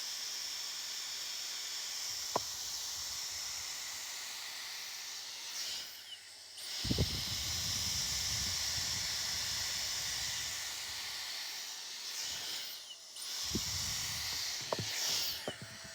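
A hair dryer-straightener combination tool blows a steady hiss of air for most of the stretch, briefly cutting out twice, with a few small clicks and low handling bumps.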